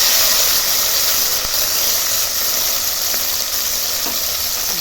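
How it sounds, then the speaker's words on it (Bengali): Shrimp frying in hot oil in a pan produce a loud, constant broadband sizzle with occasional sharp spits and crackles, close by, with no talking. "এবার আমি চিংড়ি মাছগুলোকে এই তেলের উপরে দিয়ে দেবো"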